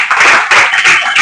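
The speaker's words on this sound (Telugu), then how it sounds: "చప్పట్లు కొడుతూ దేవుడు నామములో" A church congregation claps hands together during prayer, giving a dense, steady patter of many hands that swells in waves. The clapping is loud and close, with no clear speech.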